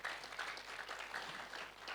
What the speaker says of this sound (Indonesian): Beri tepuk tangan bagi Tuhan kita.